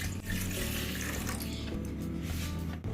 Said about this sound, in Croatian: Koristit ćemo 200 ml filtrirane vode